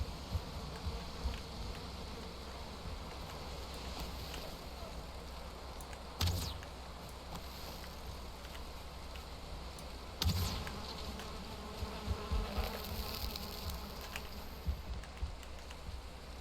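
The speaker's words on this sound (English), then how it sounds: "I hear a beehive too" Bees buzz around a beehive in Valheim, a soft continuous drone with a couple of sharper bursts standing out over faint background ambience.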